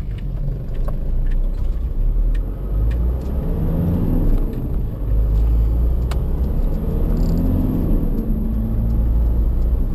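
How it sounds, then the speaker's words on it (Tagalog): Car engine giving a rev-match blip during a heel-and-toe downshift to second gear under braking, a steady close-up low rumble and whir with no sharp isolated rev spike standing out. "heel and down to second blip while braking"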